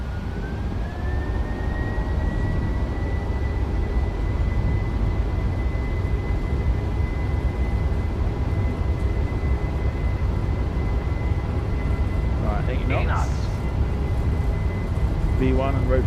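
A simulated Boeing 737-800 jet engine roars steadily and loudly through a takeoff roll in Microsoft Flight Simulator 2024, with a rising turbine whine, a brief chime near the end and someone talking over it.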